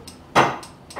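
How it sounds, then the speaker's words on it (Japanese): A wooden hammer shank from a Yamaha G2E grand piano under overhaul is tapped, giving one sharp, bright knock followed by a few fainter taps, close and clear, with no talking. "これは、グランドピアノの、ハンマーがつく、ハンマーシャンクなんですけども"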